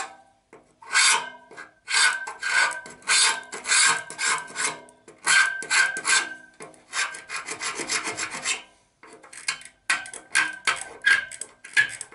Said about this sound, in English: with my shave hook, I'm going to go around all these edges